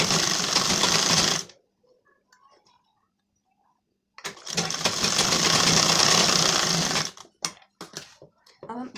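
Electric sewing machine stitching a button placket strip onto a blouse, running in two steady, loud bursts of whirring stitches separated by a few seconds of near silence, ending with short stop-and-start runs.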